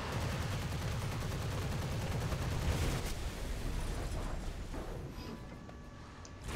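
Sustained aircraft machine-gun fire in the War Thunder combat game, a dense rapid rattle that holds loud for about three seconds, then eases into fainter engine drone and a thinner burst.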